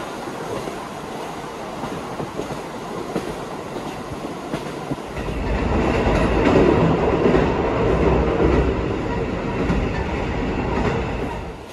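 JR Hokkaido Senmo Line train running on the rails, a steady rolling rumble with wheel clatter that grows louder and fuller partway through, heard from inside the carriage with no talk.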